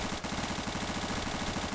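Rapid automatic gunfire from the video game Arma 3 rattles continuously and loudly in an even, fast rhythm of shots, with no voices over it.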